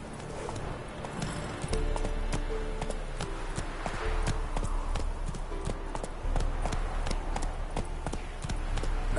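Roach the horse gallops in The Witcher 3, a steady run of hoof clip-clops close and loud over a continuous low rumble of game ambience, with no talking.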